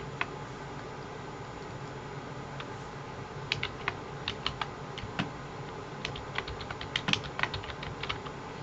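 Computer keyboard typing in quick irregular bursts of soft clicks, fairly close and quiet, with no talking.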